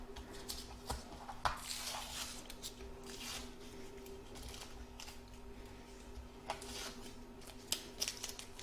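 Scissors snip and trim excess fabric from an in-the-hoop embroidered baby bib after the tape is pulled away, giving soft, close, intermittent cuts over a steady machine hum with no talking.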